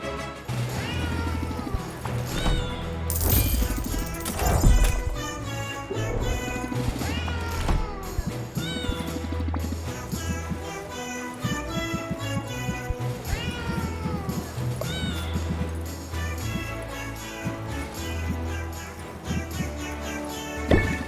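Cat meowing from a cat box in the video game Potionomics, repeated meows and wails riding over a dense, continuous layer of game music with occasional crashes.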